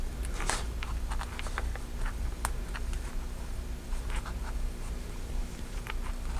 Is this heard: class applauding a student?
no